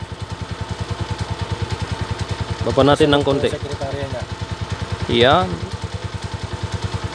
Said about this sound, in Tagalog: dikitan natin yung motor ni boss